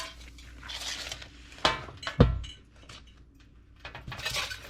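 Garlic bread set down on a metal sheet pan in a home kitchen, a few sharp metallic clinks and clatters with one louder thunk, separated by quieter handling noises.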